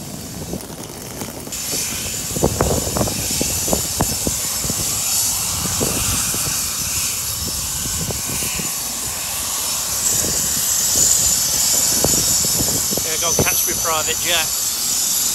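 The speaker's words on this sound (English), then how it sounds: "Private jet." A private jet takes off from an airport in Italy, its engine roar steady and sustained at middle distance. Voices speak over the rising engine noise.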